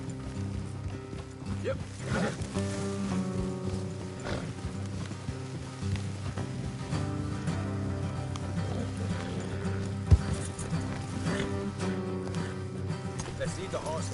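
Video-game horse hooves clop steadily under a music-like harmonic bed, with a voice speaking briefly and one sharp thump partway through.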